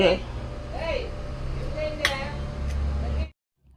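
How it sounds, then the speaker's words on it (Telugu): Steel plates and dishes clink and clatter as they are set out for serving wheat rava upma in a home kitchen, with a couple of bright knocks over a steady low hum. "సో ఇంక ఇప్పుడైతే ప్లేట్లు అయితే వేసేస్తాను"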